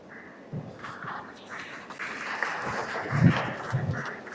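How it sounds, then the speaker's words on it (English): Audience members at a graduation ceremony at KCG College of Technology clap sparsely from a short distance, with scattered irregular claps rising slightly toward the end. "Then who clapped?"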